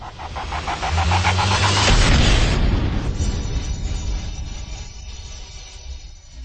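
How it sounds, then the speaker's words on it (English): A fantasy cannon fires with a heavy boom that swells into a roaring blast, then trails off into a long, fading rumble, with no voices over it. "Fire the cannon."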